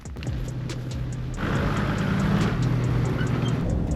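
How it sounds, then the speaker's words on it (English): Vehicle driving through Lakefield National Park on the eastern fringe of Cape York Peninsula in the outback: a steady, close engine rumble and road roar that swells slightly midway, with no talk. "Currently driving now through the Lakefield National Park on the eastern fringe of Cape York Peninsula"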